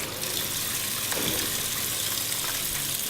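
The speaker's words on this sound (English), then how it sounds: "by running a cold stream of water over the pomegranate, it helps to loosen the seeds" Cold tap water runs in a steady gushing stream over a halved pomegranate in a kitchen sink, a close, continuous splash with brief shifts as the fruit is moved beneath it, and no one speaking.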